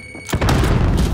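A frag grenade explodes in Call of Duty: Modern Warfare, a sudden heavy boom that opens on a sharp thump and rolls out into a dense, loud rumble.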